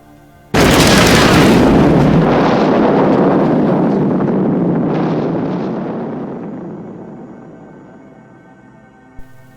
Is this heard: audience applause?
no